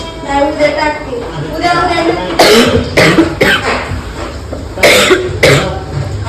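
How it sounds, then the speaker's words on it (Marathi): Several sharp, harsh coughs burst out close by in an uneven series, mixed in with speech and heavy breathing. "मला खोकल्याने एवढं जाम झाले"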